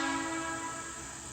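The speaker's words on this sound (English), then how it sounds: "That's the train. That's the train." A train passes at a distance, its horn sounding as a faint sustained tone over a low rumble that slowly fades.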